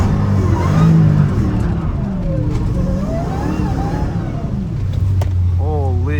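An 850 hp Hellcat Redeye revs on a wet road in the rain, its engine droning loudly and steadily from close by, with a rising whine near the end and speech-like sounds mixed in.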